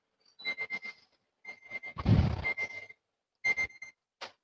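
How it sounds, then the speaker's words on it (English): A kitchen timer rings in short bursts of high metallic trilling, stopping and restarting several times, with a brief clatter in the middle. "wonderful timer"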